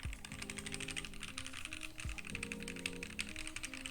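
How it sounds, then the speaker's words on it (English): Muted, rapid keystrokes on a Keychron Q1 keyboard fitted with silicone dampening, a steady quiet patter of soft clacks with no talking. "I am typing into the silicone."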